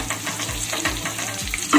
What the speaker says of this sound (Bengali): মোটামুটি 2 মিনিট মতো ভেজে নিলেই ঠিক এইরকম হালকা ব্রাউন কালার হবে।